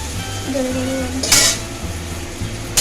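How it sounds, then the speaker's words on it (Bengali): Chopped onion going into a pan and being stirred while fish curry is cooked, a metal utensil scraping and clinking against the pan with one sharp clatter partway through, close and fairly loud. "এর মধ্যে এবার দিয়ে দেবো পেঁয়াজ কুচি দিয়ে নাড়বো"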